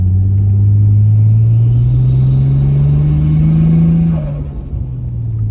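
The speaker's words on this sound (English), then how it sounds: "let's take it for a first spin with the decat pipe on there and see if it sounds any different" A Nissan Skyline R34's engine, fitted with a decat pipe, drones loudly with a steady rising pitch as it accelerates, then the note drops off near the end as the throttle eases.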